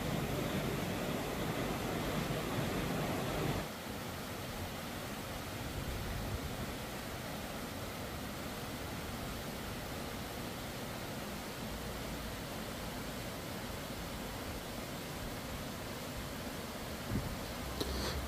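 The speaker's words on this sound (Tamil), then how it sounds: "இப்போ நீங்கள் பார்க்குற அருவி வந்து பார்த்தீங்கன்னா சீதா இலை அருவி என்று தான் சொல்லி" Seetha waterfall, also called Seetha Ilai Aruvi, gives a steady, dense broadband rush of falling water that runs on evenly throughout, with a slightly louder stretch at the start and no voices.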